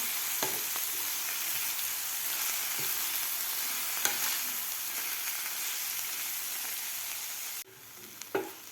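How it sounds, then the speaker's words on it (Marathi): Washed fenugreek leaves are stirred into frying moong dal, a steady close sizzle broken by occasional spoon scrapes and taps, the frying dropping briefly near the end before a final clatter. "हे खालच्या डाळीमध्ये भाजी व्यवस्थित हलवून घ्यायची आहे"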